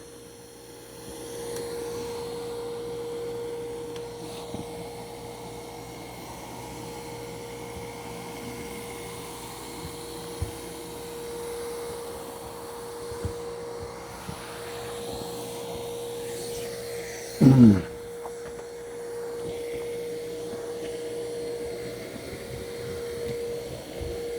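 A steady mechanical whir and hum of an iRobot Roomba 575 robot vacuum at max suction, fairly moderate in volume, with a brief louder bump partway through.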